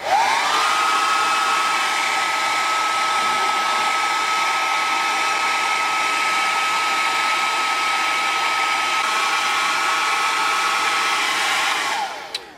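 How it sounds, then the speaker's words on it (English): A hair dryer heats the end of a BCM M-Lok handguard, a loud steady whooshing blow with a whine that starts abruptly, holds for about twelve seconds, then cuts off. "take a hair dryer and to heat up the end, just to expand it a little bit"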